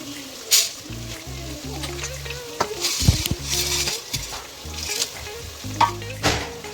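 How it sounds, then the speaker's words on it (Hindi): Onions fry in hot oil with whole spices such as cinnamon, cloves, black cardamom and black peppercorns, sizzling close up under clattering stirring and scraping of a spoon against the pan. "प्याज फ्राई हो रही है।"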